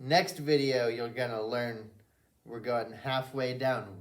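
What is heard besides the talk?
None of the usual background noises is heard.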